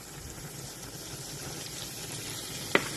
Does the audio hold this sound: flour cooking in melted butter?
yes